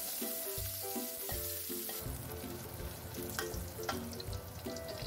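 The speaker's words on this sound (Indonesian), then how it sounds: "Kita tumis terlebih dahulu bawang putih dan bawang merahnya sampai harum." Garlic and shallots sizzle and fry in a small amount of oil in a home kitchen, a steady close crackle broken by the clatter of stirring and a few scrapes of a utensil against the pan.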